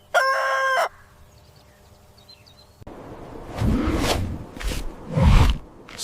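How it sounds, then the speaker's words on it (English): A large black farm rooster crows once, loud and close, in a short harmonic call at the start, followed by quieter rustling and a few low farmyard noises. "This is a large black farm rooster."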